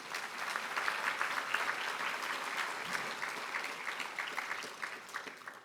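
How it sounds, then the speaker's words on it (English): Audience applause for police training staff at a merit awards ceremony, a steady wash of many hands clapping at moderate level throughout, tapering slightly toward the end. "Let's give them a round of applause."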